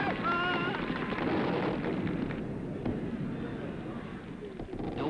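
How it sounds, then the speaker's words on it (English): Fireworks bursting at a night celebration saluting a Premier, a dense run of booms and crackles with whistling streaks early on, loud and continuous, thinning slightly toward the end. "The Premier was saluted in fireworks."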